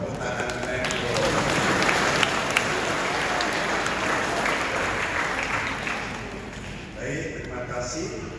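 A congregation at a Catholic mass in a parish church applauds, a dense, loud roar of many hands filling the room steadily before easing slightly toward the end.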